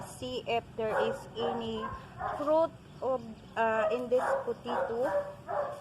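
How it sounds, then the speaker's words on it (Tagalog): A dog barks repeatedly in short bursts close by, overlapping someone talking steadily throughout. "Ayan ang ingay ng aso namin."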